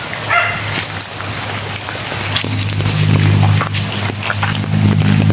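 Steady rain falls on a surface outdoors in Bicol, a dense even patter close by, with a dog barking now and then in the background.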